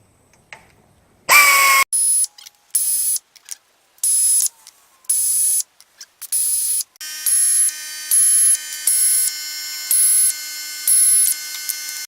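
Socket ratchet clicking in repeated short bursts while loosening transmission pan bolts on a Ford Crown Victoria's 4R75W, close and loud, with a steadier run of rapid ratcheting toward the end and no talking.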